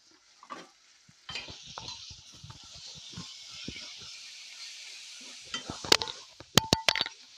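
Ginger garlic paste and curry leaves sizzle and hiss in an oil-filled pan while a spoon stirs them, scraping and clattering against the metal in a few sharp knocks near the end.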